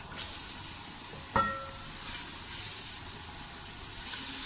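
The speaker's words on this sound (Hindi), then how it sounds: "ऑयल गर्म हो जाए तो हम इसमें प्याज डाल देंगे।" Onions frying in hot oil while cooking Daigi Qorma: a steady close sizzle and hiss continues throughout, with a brief clink near the middle and no talk.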